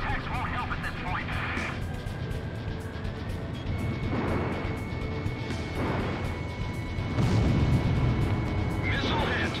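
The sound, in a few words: missile hitting target, from the video game Ace Combat Zero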